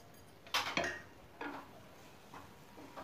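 A spoon clinks against a bowl while masala sweet corn with chopped coriander is stirred, a few soft scraping taps spaced about a second apart, quiet and close.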